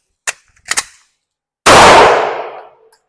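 A pistol fires during a defensive pistol practice drill: two quick metallic clangs come first, then one sharp, loud gunshot that rings out and decays over about a second, with no talk.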